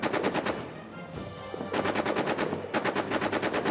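Rapid machine gun bursts rattle in a World War I trench battle game: a fast burst, a short pause, then two more sustained volleys of evenly spaced shots, loud and close.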